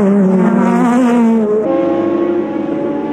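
Porsche and Nissan prototype race cars at the Le Mans 24 Hours, engines screaming loud with rising and shifting pitch as they power along the track, one note dropping after a gear change.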